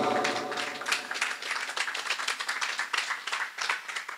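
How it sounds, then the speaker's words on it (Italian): Audience applauding a winning reader at an evening literary event by a lake, a dense steady patter of many hands clapping at moderate volume, close and continuous throughout. "Mariangela, un bel applauso"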